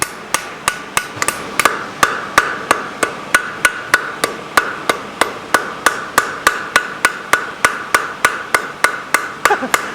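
A farrier's square-faced hammer strikes a punched toe clip on a horseshoe, about thirty sharp close metallic blows in an even rhythm of roughly three per second, ringing alone without talk.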